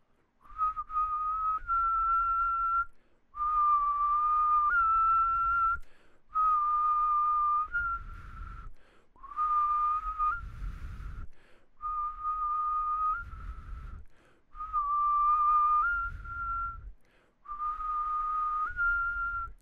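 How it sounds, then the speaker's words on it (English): A person whistles a double whistle with the tongue held down, producing two pitches at once in a series of sustained, clear phrases separated by short breaths, close and alone. "Try to continue whistling while your tongue is down."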